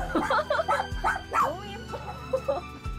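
Rescued puppies, weak and in need of urgent care, whimper and yip in short, high, wavering cries close by, with several small voices overlapping and a few low thumps underneath.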